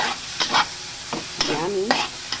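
Chicken liver goes into a hot pan for pancit and is stir-fried, with bursts of sizzling and scraping spatula strokes coming in short irregular clusters, close and fairly loud.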